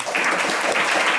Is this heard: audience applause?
yes